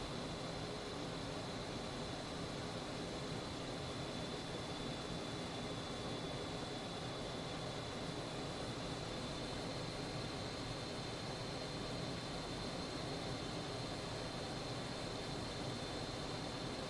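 A general aviation airplane's engine drones steadily in flight near Manassas in the eastern USA, a constant close cabin hum with a faint high whine running through it, loud and even for the whole stretch, with no talking.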